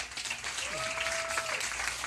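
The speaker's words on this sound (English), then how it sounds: "Come on, let's clap it up for them." Applause from an audience, a steady wash of clapping hands throughout, with a brief tonal whistle rising above it midway.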